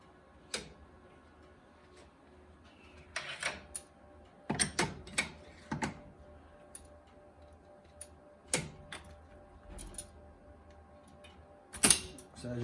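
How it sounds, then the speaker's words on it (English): Yarn mill machine plying three singles into 3-ply yarn: irregular sharp mechanical clicks and clacks over a faint steady machine hum, some in quick clusters, one louder knock near the end. "So now, on the same machine, I can ply all this yarn."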